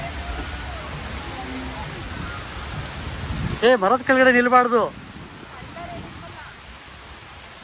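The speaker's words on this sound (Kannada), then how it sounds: "ಮಳೆ ಫುಲ್ಲು ಮಳೆ" Heavy rain pours steadily at an outdoor cable car site, a dense, continuous hiss throughout, while a person speaks briefly partway through.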